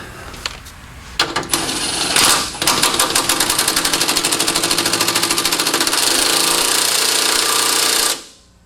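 A pneumatic impact wrench rattles close and loud while tightening a lock nut on a 1969 Pontiac LeMans convertible, a few short bursts followed by a long steady hammering run that stops abruptly.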